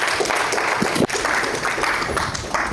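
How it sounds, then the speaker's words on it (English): An audience applauds a guest speaker at an evening general body meeting, a steady dense patter of clapping throughout, fairly loud and close. "a round of applause for our guest speaker, Mr. Brandon Dotson."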